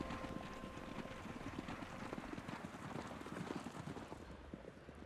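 Hooves of a group of wild horses patter quickly and irregularly on the ground in a dense, distant clatter, mixed with steady background noise and no clear talk.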